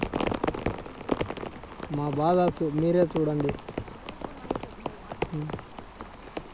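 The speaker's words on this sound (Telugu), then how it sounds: "వర్షం" Steady cyclone rain patters on a surface throughout over rice paddy fields in Kadapa district, with people talking over it in the foreground.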